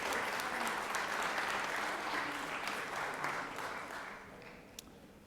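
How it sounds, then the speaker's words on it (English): Legislators in a state legislative chamber applaud a colleague's passed bill with a sustained round of clapping that gradually thins and fades toward the end, followed by a single sharp knock. "Give him a round of applause"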